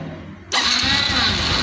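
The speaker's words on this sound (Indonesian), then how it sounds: "Nah, motor hidup ya" A fuel-injected motorcycle engine cranks and fires, jumping abruptly from quiet to a loud, steady running roar that holds close and alone.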